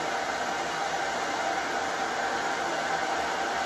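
A hair dryer runs steadily on a painted watercolor Christmas tree, a constant close whooshing hiss that stays even and unbroken throughout.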